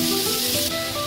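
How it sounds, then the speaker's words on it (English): Mushrooms and paneer sauté in a pan, with a steady close sizzle and faint hiss throughout a short stretch. "saute the mushroom for some time, and I add over it my paneer"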